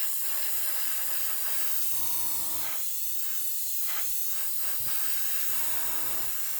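New Japanese MRP model paint sprays from an airbrush in a steady, close, continuous hiss that fills the whole stretch with only slight dips.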